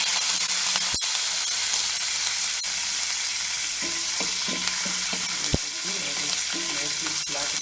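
Hing and spices sizzle and crackle steadily in a hot pan of oil, with a spoon scraping and stirring through them and a few sharp clicks against the pan, close and continuous.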